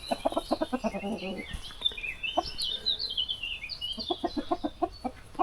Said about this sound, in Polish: A Stefan polowanie na kury